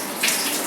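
Water from a tap runs steadily onto a sterile surgical scrub sponge, a close, continuous splashing hiss with no pauses.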